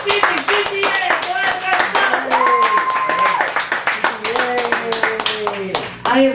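Audience clapping at a poetry open mic night in a cafe gallery, a loud steady spatter of hands with voices and cheering mixed in throughout.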